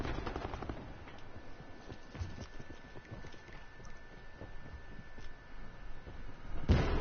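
Gunfire in the Call of Duty Black Ops 4 video game, rapid bursts of shots rattling steadily through the scene, ending in a louder close blast.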